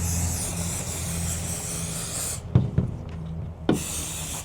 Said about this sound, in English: But we'll just go ahead and spray this other shoe.